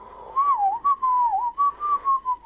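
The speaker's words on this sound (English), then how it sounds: "You whistle with a finger. Yes. And so this stick now acts as that finger." Someone whistles with a stick held in place of a finger, producing a clear, close, warbling tone in short repeated bursts with dips and rises in pitch.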